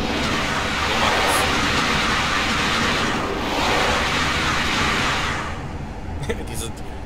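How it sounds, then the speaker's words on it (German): Freight wagons roll along the track in Train Simulator 2020 on a Black Forest route toward Hausach, a loud, continuous rumble with swelling waves of wheel and rail noise and a few sharp clanks near the end. "Dieser Sound von den Güterwagen von TTB und 3D-Zug, einfach nur geil."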